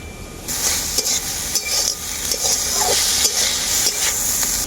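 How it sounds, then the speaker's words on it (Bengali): Vegetables stir-fried with cumin and coriander powder for a village-style sabudana khichuri, a loud close sizzle with repeated scraping strokes of a spatula against the pan throughout. "জিরে গুঁড়ো আর ধনে গুঁড়ো দেওয়ার পর সবজির সাথে খুব ভালো করে কষিয়ে নিয়েছি"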